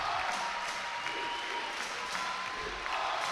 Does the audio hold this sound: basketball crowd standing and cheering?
yes